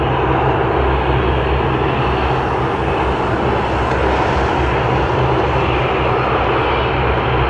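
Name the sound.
WestJet Encore Dash 8 Q400 aircraft at Toronto Pearson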